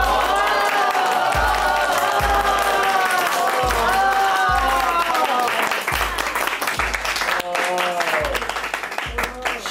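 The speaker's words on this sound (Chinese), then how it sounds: "大家掌声欢迎一下。" A classroom of students applauds a newly introduced homeroom teacher, steady clapping throughout with a few cheers and whoops, loud and close, fading slightly toward the end.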